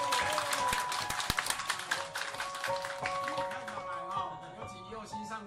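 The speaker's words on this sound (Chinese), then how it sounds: "所以我们先用掌声欢迎陈校长。" Applause from those at an alumni association board meeting greets the new school principal, with quick scattered claps that are fairly quiet and come mostly early, while voices talk over them.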